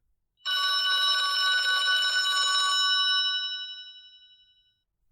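A telephone rings with a bright, bell-like trill that sounds continuously for about three seconds before tapering off into silence, alone and fairly close.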